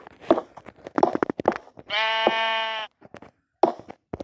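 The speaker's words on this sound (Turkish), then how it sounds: "Koyun girmiş içeriye." A single drawn-out sheep bleat from the Minecraft video game sounds clearly in the middle, amid scattered clicks and knocks of gameplay.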